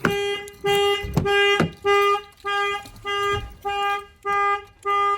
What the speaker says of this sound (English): If the alarm is armed, if somebody opens the door, it will trigger.